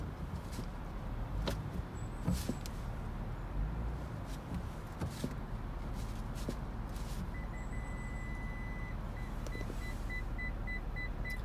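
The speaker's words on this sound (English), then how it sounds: "Listen for parking sonar." A 2020 Toyota Highlander Platinum reversing at night, with faint, repeated parking-sonar beeps that speed up toward the end over low engine and cabin rumble.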